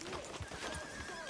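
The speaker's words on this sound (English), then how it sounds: "Hitch your horse up here." Horse hooves clip-clop in Red Dead Redemption 2, several quick close hoofbeats in a short uneven rhythm, alone without talk.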